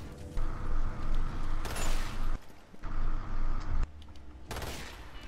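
Gunfire in the zombie shooter video game Umbrella Corps, heard as loud repeated weapon bursts with mechanical clacks, broken by short quiet gaps, with no talking.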